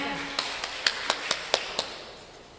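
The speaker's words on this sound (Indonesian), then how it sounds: "berikan tepuk tangan" A handful of scattered, separate handclaps rise over steady room noise for a contestant in a youth category at a Bible reading contest, as a short, thin round of applause.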